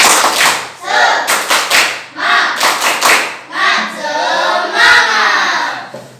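A primary school class in Indonesia doing a rhythmic clapping chant, loud claps in quick patterned bursts mixed with children's voices, repeating through the whole stretch.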